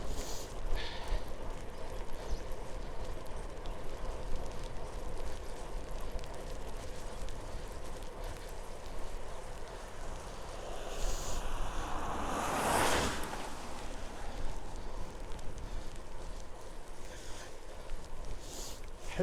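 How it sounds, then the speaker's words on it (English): Strong gusting side wind buffets a rider on a Ribble CGR AL-E e-bike in the rain, a steady roar of wind noise that swells into a louder gust midway. "Strong wind from the side then."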